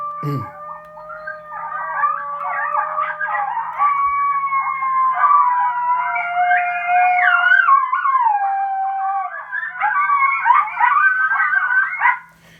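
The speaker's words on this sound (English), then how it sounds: "This is something you might hear at night in the woods when coyotes answer you back" A pack of coyotes howls and yips together at night in the woods, overlapping wavering calls that carry on steadily and loudly for several seconds before cutting off.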